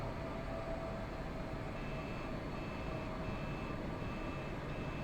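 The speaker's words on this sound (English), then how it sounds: "I'm hearing beeping noises. What are those for?" An F-86F Sabre cockpit in a flight simulator game gives off a thin, repeating electronic beep in evenly spaced pulses, faint beneath a steady, loud engine drone.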